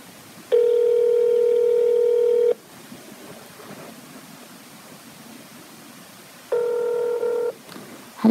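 Phone call placed to IRS scam callers: a long steady tone sounds loudly for about two seconds, then after a gap of faint background hiss another shorter tone repeats, like a ringback on the line.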